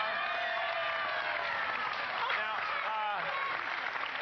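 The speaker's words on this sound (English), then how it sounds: "Let's give him a nice round of applause." An audience applauds Matthew, the son of a man named Mark, with dense, steady clapping that holds at an even level throughout, while voices talk over the top of it.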